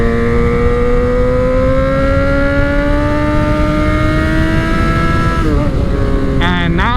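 A motorcycle engine drones steadily and loud while riding, its pitch rising slowly, then a quick rev and gear change near the end, with a voice talking over it.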